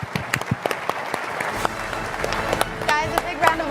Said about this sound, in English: Applause for the Bat family